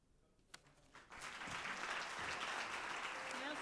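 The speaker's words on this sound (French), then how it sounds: "Merci sous vos applaudissements." Loud, sustained applause from a large audience at a televised youth news-presentation contest in Congo, starting after a brief quiet moment and continuing steadily as a dense, close wash of clapping hands.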